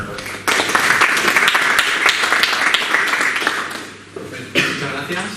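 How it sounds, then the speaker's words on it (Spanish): Conference audience at an e-sports and physical education conference applauds a speaker with sustained, dense clapping that fills the room, fading briefly near the end before a final burst. "por favor, fuerte aplauso para el doctor Fernando"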